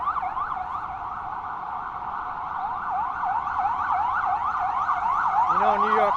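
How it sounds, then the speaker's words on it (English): An emergency vehicle siren wails on 5th Avenue in Manhattan, a loud, rapid rising-and-falling yelp that holds steady and grows slightly nearer, with a brief horn-like blast at the end over faint street noise. "You know, New York's back to normal when you start to hear emergency sirens all the time."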